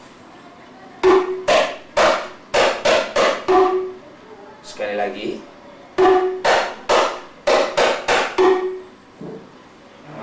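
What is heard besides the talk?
rebana drum, ketipung 1 basic stroke pattern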